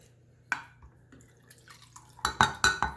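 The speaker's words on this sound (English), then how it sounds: "1/3 of a cup of aloe. Put that in there." Aloe gel poured from a 1/3 measuring cup into a bowl for homemade hand sanitizer: a soft plop and drip, then a cluster of louder clinks and knocks of the cup against the bowl near the end, close and alone without talk.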